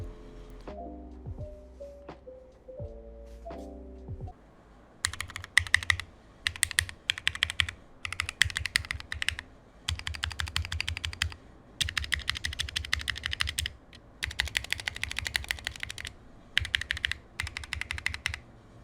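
Bursts of rapid clacky mechanical key presses on an Atlantis PS17 acrylic numpad with stock stabilizers, in short flurries with pauses between, preceded by a few lower, deeper clunks at the start.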